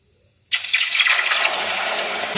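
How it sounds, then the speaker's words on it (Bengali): Hot water gushes into a pan holding drumstick pieces, black cumin and potatoes coated in salt and turmeric, starting abruptly after a brief quiet moment and continuing as a steady close pour with sizzling. "এবারে দেব গরম করে রাখা জল"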